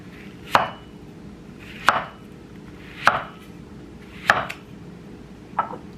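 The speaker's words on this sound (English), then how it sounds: "I'm about to cut up the papaya" A knife chops through a papaya on a board in five sharp, evenly spaced strokes about 1.2 seconds apart, each a crisp thud with a short crackling tail over a quiet background.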